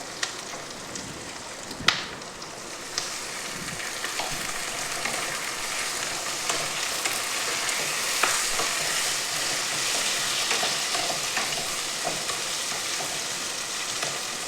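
Tomato pieces and green chillies frying in a pan for a tender okra stew: a steady, close sizzle that runs the whole time, with a few sharp clinks and stirring scrapes early on.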